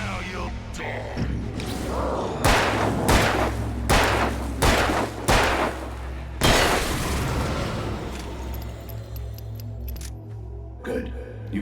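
Gunfire in the video game Alan Wake: a run of about six sharp, loud blasts spaced roughly a second apart, each ringing briefly over a low, steady rumbling drone that lingers after the last shot.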